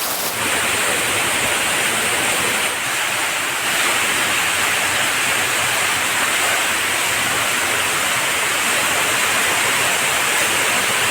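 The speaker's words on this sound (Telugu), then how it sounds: "ఫ్రెండ్స్ వాటర్ ఫాల్స్ మొత్తం చూశారు కదా" A waterfall in the hills roars with a loud, unbroken rush of falling water, steady and close throughout, with no voices over it.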